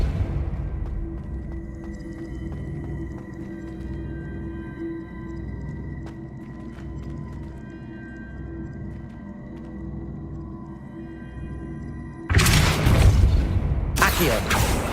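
A Depulso spell blast in the Hogwarts Legacy video game lands as a sudden loud, broad burst near the end, cutting through a long stretch of steady tonal game ambience and music.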